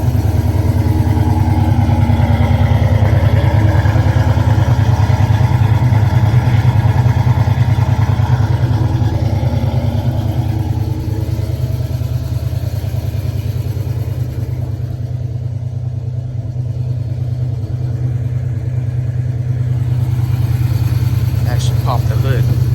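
A 2010 Chrysler 300C with a 5.7 Hemi and a stage 2 cam, cold-started after sitting three weeks, settles into a loud, lumpy, choppy idle that rumbles steadily and close for over twenty seconds.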